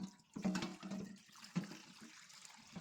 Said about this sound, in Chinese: 然后将水倒掉